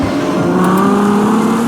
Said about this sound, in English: the monster V12, the astonishingly quick gearbox, and the epic sound